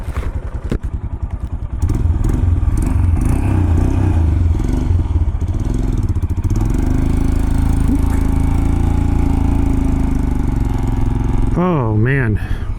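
A Royal Enfield Himalayan 411 motorcycle runs with a steady, loud low engine drone and some mechanical clatter throughout, with a rising revving note near the end; a person talks briefly over it.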